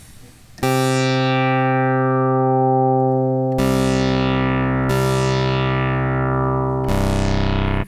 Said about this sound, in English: Now I'm thinking that might be some kind of pulse wave.